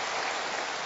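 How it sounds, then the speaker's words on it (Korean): A church congregation at a Sunday evening worship service claps together, a dense, even wash of applause filling the room for under a second, with no voices heard. "우리 감사하다고 우리 박수 한번 하십시다"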